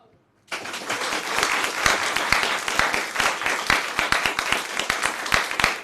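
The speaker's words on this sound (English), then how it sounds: "Applause." Audience applause breaks out suddenly after a brief quiet moment at a business school challenge contest, then continues as thick, sustained clapping at a steady level until the end.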